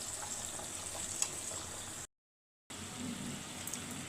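Bhetki fish curry gravy with tomato simmering in a pan on a gas stove, a steady soft bubbling hiss throughout, broken by a brief silent gap.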